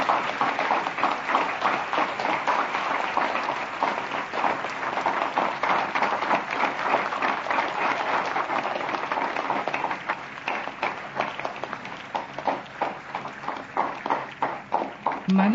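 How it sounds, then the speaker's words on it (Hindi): A large crowd of students and officials applauds to welcome the Prime Minister at a Teachers Day event, a sustained, dense roar of clapping that stays loud and even for over fifteen seconds before thinning slightly toward the end. "आप सभी से अनुरोध है तालियों से उनका स्वागत करें।"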